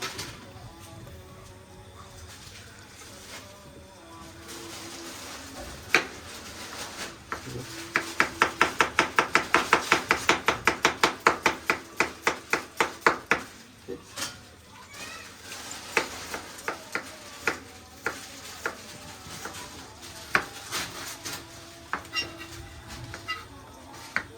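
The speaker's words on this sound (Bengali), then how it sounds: "অনেকদিন পরে পেঁয়াজ কাটতেছি" Onion being chopped with a knife on a board while cooking noodles at home, a fast run of sharp, even taps in the middle giving way to scattered, slower cuts, with kitchen background noise around them.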